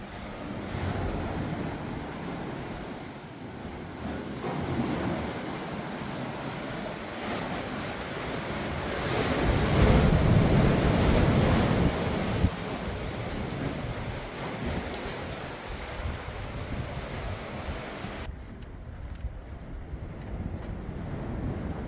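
Sea water surges and splashes inside a coastal cave in the Outer Hebrides, Scotland, a continuous rushing wash with a swell of heavier churning midway, mixed with wind buffeting the microphone.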